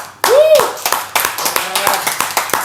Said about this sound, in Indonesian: Jadi kita harus tepuk tangan.